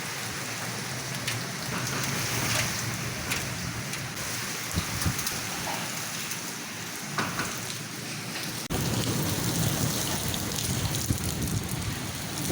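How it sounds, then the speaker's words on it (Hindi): Heavy rain pouring outside, a dense continuous hiss of drops on surfaces that holds steady and swells slightly toward the end, with no voices. "क्योंकि बाहर तेज़ बारिश शुरू हो गई"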